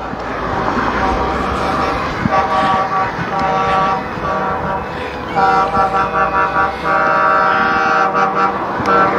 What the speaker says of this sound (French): Vous entendez les klaxons d'ici